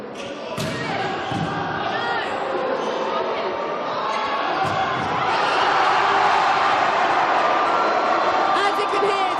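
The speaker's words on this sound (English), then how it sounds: "it's very, very loud in the sports hall now. Look at that crowd going wild." Crowd cheering loudly in a sports hall during a Keele versus Staffs varsity match, a sustained din of shouts and chatter punctuated by ball thuds and slams, swelling louder toward the end, with a commentator talking over it.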